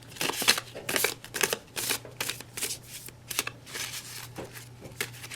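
Tarot cards being shuffled in a run of quick crisp riffling bursts, close and fairly quiet, with a faint steady hum underneath.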